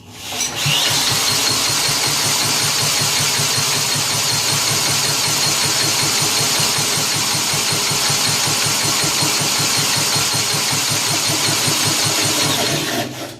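A small two-stroke engine of a 1959 Mitsubishi Silver Pigeon scooter runs steadily and loud, a fast buzzing putter with rapid firing pulses throughout, close up with no voices.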